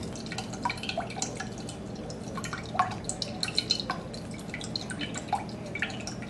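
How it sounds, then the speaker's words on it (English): Coconut water pouring and dripping from a pierced coconut into a container for a Belizean coconut tart, heard as soft irregular drips and trickles over faint background hum, fairly quiet and close. "he's going to pour the water out because we're going to use this water as a part of the tart"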